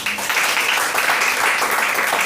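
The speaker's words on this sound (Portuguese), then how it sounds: "Aplaude Jesus mais uma vez." A church congregation applauds during a prayer service, a dense steady patter of many hands clapping together at close range for a couple of seconds.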